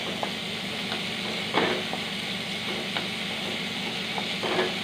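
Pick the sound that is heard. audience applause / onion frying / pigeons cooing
onion frying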